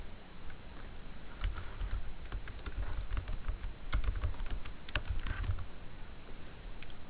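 Fingers typing a test name on a computer keyboard, a quiet run of irregular, close key clicks with short pauses, alone without talk.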